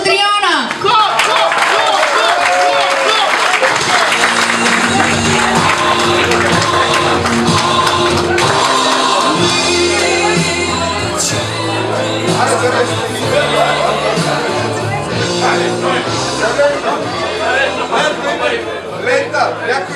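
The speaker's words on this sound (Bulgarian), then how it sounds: "И на първо място абсолютно бурни, взривяващи аплодисменти за Коста Триона!" Enthusiastic applause and cheering for the first-place winner at an awards ceremony, with a crowd clapping and whooping steadily under a loud announcer's voice and crowd chatter.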